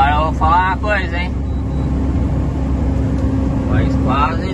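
A truck descends the Serra de Garuva mountain road in Brazil, its engine giving a steady low rumble throughout while someone talks over it.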